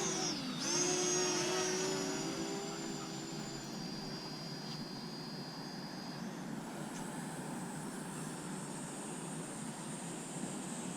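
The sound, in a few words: Parrot ANAFI drone taking off and flying on a flight plan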